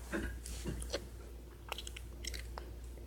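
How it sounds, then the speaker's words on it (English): Gum being chewed close to the microphone gives faint, irregular wet clicks and smacks over a low steady background hum, with no talking. "I'm chewing gum, so sorry for that."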